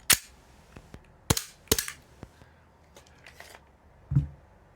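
Tokyo Marui Glock airsoft pistol on green gas with a beefed-up spring, firing several sharp, close single cracks spaced irregularly, with small mechanical clicks between them and a dull thump at the end.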